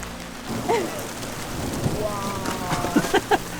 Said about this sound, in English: This might be the biggest storm I've ever sat in.